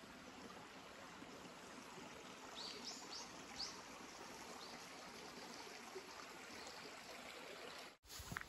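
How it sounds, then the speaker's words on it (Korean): Steady rushing of a stream at Baeron Holy Land in Jecheon, Korea, filling the whole stretch with broadband babbling water, a few faint bird chirps near the middle, and a short dropout just before the end. "아, 물소리가 참 좋습니다."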